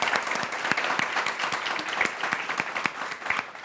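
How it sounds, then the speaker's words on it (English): An audience at a Trinity College women-in-leadership event applauds steadily, a dense wash of many hands clapping with a few sharper individual claps standing out, sustained at even loudness throughout. "Big round of applause"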